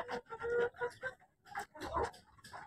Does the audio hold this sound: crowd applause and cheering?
no